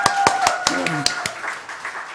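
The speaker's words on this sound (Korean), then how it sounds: "하나님께 영광의 박수를 드리겠습니다." Church congregation at a Sunday service gives a few sharp, evenly spaced claps, loud and close, with a voice speaking alongside.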